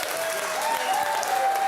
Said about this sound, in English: Big round of applause, please, for Eamonn Holmes.